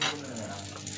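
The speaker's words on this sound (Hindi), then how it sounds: "ये मैं अपना ऑमलेट बना रही हूँ" An egg omelette sizzles in a pan, a brief, dense, even frying hiss heard close up.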